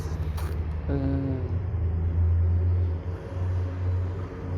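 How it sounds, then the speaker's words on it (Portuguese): Cars and motorbikes pass on the street outside an apartment balcony, a low steady engine rumble with one vehicle drawing closer and louder midway before easing off, with no talk over it. "Me incomoda os carros e as motos e os veículos passando"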